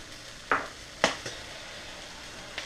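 Peppers go into a pan of frying quinoa fried rice with a soft sizzle, broken by several sharp scrapes and clinks of a utensil against the pan, close by and without speech.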